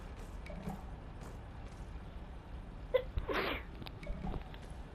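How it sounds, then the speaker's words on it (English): A single soft, fairly quiet sneeze bursts out near the middle of an otherwise hushed stretch, preceded by faint sniffing breaths, with no talking. "I'm about to sneeze."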